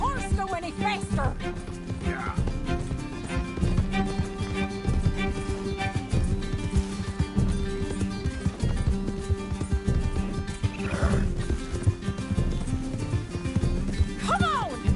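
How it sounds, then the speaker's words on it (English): A horse gallops in Red Dead Redemption 2, steady hoofbeats drumming under game music and effects, with a few whinnies breaking through; the rhythm holds throughout at close range and moderate loudness. "Can't this horse go any faster?"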